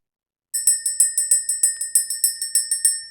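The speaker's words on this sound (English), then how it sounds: "Let's ring the bell." A small bell rung rapidly about fifteen times, bright metallic dings in an even quick rhythm, close and loud with no other sound behind it.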